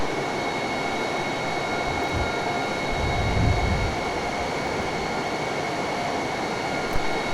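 A jet aircraft in a flight simulator game approaching to land at a runway, a steady broadband engine roar with a continuous whine, holding level throughout with a brief low swell partway through.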